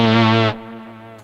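Bass guitar driving a GR300-style synthesizer in synth-only mode, a loud buzzy sustained note that fades into a quieter ringing tail with a faint click at the end.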